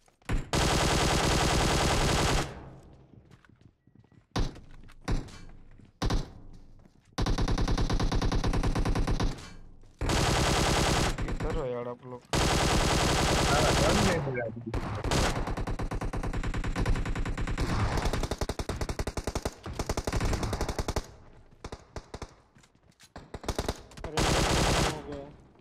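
QBZ rifle gunfire in PUBG Mobile, long loud automatic bursts and rapid volleys separated by short gaps, with brief spoken voices between them.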